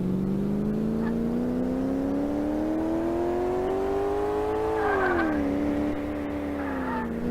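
In Car Mechanic Simulator 2018, a car engine drones steadily and climbs slowly in pitch as it revs, then dips and holds, loud and continuous, with faint tyre squeals near the end.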